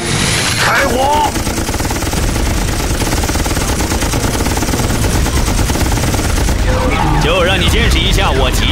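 Rapid machine-gun fire rattles continuously in an animated cartoon battle, loud and close, a dense sustained burst with shouted voices over it near the start and end.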